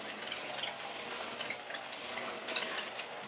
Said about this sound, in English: Now I'm just going to lightly stir them together